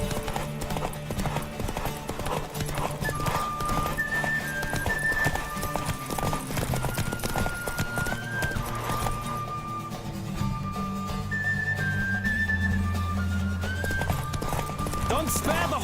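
Steady clip-clop of a horse galloping in the video game The Witcher 3: Wild Hunt, continuous and loud, with game music and effects layered underneath and a voice talking over it.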